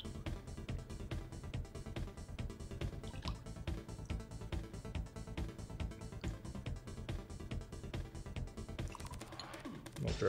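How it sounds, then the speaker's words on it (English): Hazelnut creamer drips while being poured into a coffee drink, a run of small close ticks and patters over steady background noise, with no talking. "A little drip there."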